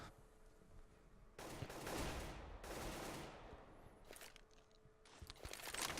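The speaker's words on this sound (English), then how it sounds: "Opening AK rounds being shot out" AK rifle fire in a Counter-Strike tournament match, heard as several bursts of rapid automatic shots separated by short gaps, fairly faint and set in a low game ambience.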